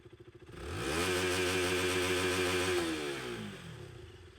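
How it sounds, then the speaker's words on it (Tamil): A KTM RC200 BS3 motorcycle engine, a used bike up for sale, fires up from slow idle thumps and revs into a loud, steady drone before easing back down toward idle, close and alone. "வீடியோக்குள்ளே போகிறதுக்கு முன்னாடி வண்டியோட சவுண்டு கேட்டு வந்துடலாமா?"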